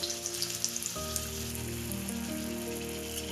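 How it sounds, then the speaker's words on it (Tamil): Peanut-stuffed capsicum sizzles steadily in hot oil in a pan, a dense continuous crackle with a few sharper pops, close by and with no talking over it. "இப்போ திருப்பிலாம் திருப்பி விட்டு ஃப்ரை பண்ணலாம்."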